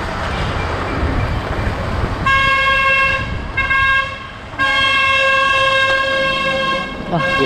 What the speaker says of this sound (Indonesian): dia kebut-kebutan gitu sambil klakson